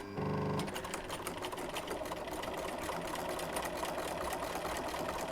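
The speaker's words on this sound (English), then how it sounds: "I am just stitching" A sewing machine runs steadily with a fast, even mechanical chatter of stitching, faint and continuous, after a brief tonal hum at the start.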